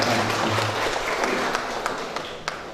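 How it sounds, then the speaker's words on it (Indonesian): Applause from an audience at a school gathering honoring a female teacher, a broad continuous patter of clapping with a few sharper claps standing out, moderately loud and sustained. "sama tepuk tangan kangge Ibu Nina"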